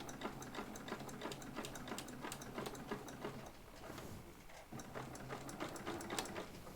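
A sewing machine stitches a cross body bag after the needle drops and backstitches, a quiet rhythmic ticking patter of the needle, close but faint, with a brief pause midway.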